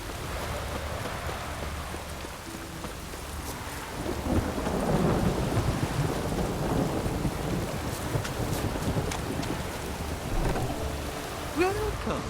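Steady rain with rolling thunder in a stormy outdoor scene of The Witcher 3: Wild Hunt, a continuous wash that swells partway through, with a few faint background voices near the end.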